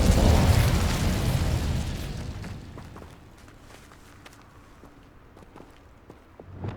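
A burst of fire from the Incendio spell in Hogwarts Legacy flares loudly as a rumbling whoosh that fades over a few seconds into quieter game ambience with faint footsteps.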